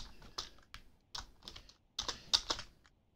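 Computer keyboard typing comes through a microphone, irregular bursts of crisp key clicks in short clusters, fairly close, with quiet gaps between.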